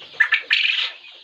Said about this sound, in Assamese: এই বতা চৰাইবিলাক